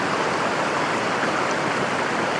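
Creek water flowing steadily along a trail toward a secluded waterfall in Rocky Mountain National Park, a dense, even rushing wash with no pauses, close and constant throughout.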